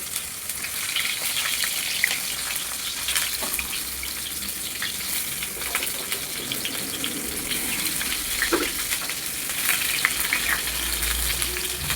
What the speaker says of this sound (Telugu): ఇప్పుడు స్టఫింగ్ చేసుకున్న వంకాయలు మొత్తం హీట్ అయిన ఆయిల్లో యాడ్ చేసుకుని ఫ్రై చేసుకోవాలి